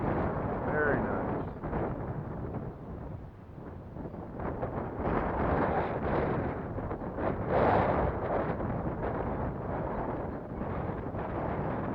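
Strong gusty wind buffets the microphone at an open airfield, a loud continuous roar rising and falling in waves, with people talking intermittently underneath.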